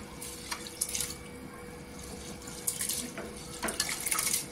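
Tap water runs steadily into a vessel while dal is washed by hand, with light splashes and clinks over the flow. No voices are heard.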